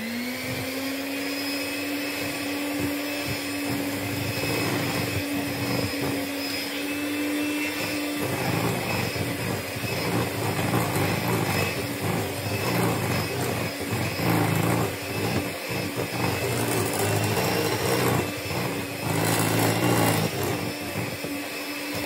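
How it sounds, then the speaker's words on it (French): An electric hand mixer beats egg whites for a mousskoutchou sponge cake with a steady, loud, close motor whine that shifts slightly in tone partway through and runs without pause. "Et on continue avec le batteur."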